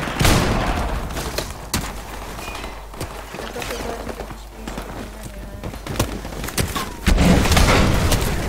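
Grenade blast and gunfire in Call of Duty: Modern Warfare Remastered, loud booms and sharp repeated shots with a heavy burst near the end, while a person talks over the action.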